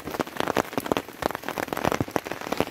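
Heavy rain hoses down outdoors at a Stillwater wapiti hunting camp, a dense crackling patter of drops striking surfaces close by, steady and loud with no voices.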